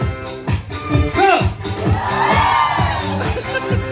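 A crowd at a 60th birthday party shouting and whooping on command over loud dance music, voices swelling together for a few seconds.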